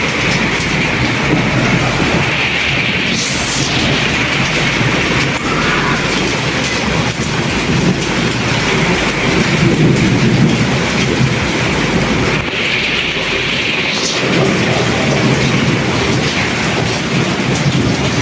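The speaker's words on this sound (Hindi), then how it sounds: "ओले पड़ रहे।" Hail falls outside in a steady, dense broadband patter that runs unbroken for the whole stretch, with no voices over it.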